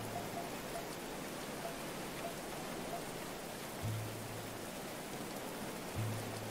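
Steady rain falls in the medieval colony-building game Going Medieval, an even hiss of drops over the whole stretch with a couple of brief low tones near the end.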